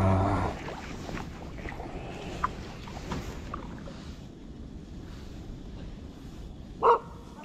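Dogs bark outdoors near a packraft on a winter fishing trip. A few faint, distant barks come over quiet ambient noise, and one louder, closer bark sounds near the end.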